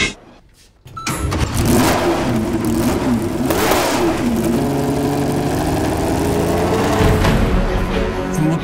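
A Ferrari 312B Formula 1 car with a flat engine bursts into loud revving after a second of near silence. The engine holds high, sustained revs, with pitch rising and falling over several seconds.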